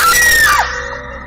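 A woman's high, piercing scream from a Hindi horror audio story rings out loud and alone, then breaks off abruptly, leaving a fading tail.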